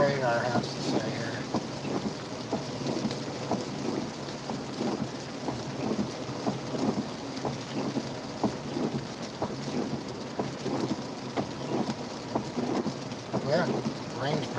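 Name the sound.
rain falling during storm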